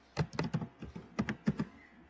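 Someone types on a computer keyboard up close, tapping out irregular bursts of sharp keystrokes with short pauses between clusters, and no talking.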